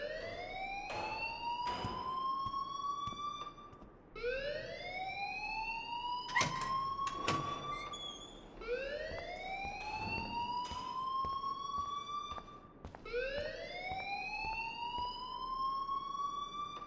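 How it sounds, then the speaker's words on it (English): An alarm in the video game Life is Strange wails in rising sweeps, each climbing for about four seconds before restarting, with a few sharp electronic clicks in between and no talking. "please turn off that alarm since that's your job"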